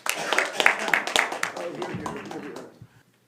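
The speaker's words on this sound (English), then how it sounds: "Let's give applause to Sherman Leis" A Rotary Club audience claps for a guest speaker, a short burst of scattered, fairly close hand claps under a talking voice, fading out near the end.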